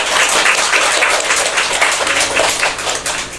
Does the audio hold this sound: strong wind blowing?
no